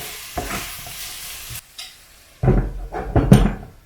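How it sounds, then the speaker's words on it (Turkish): Spoon scraping and stirring bulgur in a hot frying pan, with a soft sizzle underneath; a few short bursts of stirring separated by quieter pauses. "Bir kere karıştıralım."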